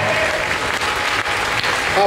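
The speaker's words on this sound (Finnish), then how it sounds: "Aplodit. Keijo Kopra." An audience applauds glassblower Keijo Kopra at a glassblowing competition, a short burst of steady crowd clapping with an announcer's voice over it.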